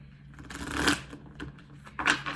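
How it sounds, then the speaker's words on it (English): Oracle cards are shuffled and pulled in a quiet room, making soft riffling bursts in short irregular flurries at close range, with two sharper slaps standing out. "So let me pull an oracle card for you all."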